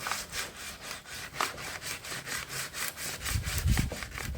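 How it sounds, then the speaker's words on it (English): Hand sanding wood with a rolled sheet of 100 grit sandpaper during a vanity dresser refurbishment, a rhythmic back-and-forth rasping scrub repeating steadily, close and fairly quiet, with a few heavier knocks near the end. "just roll up a sheet of sandpaper. This is 100 grit,"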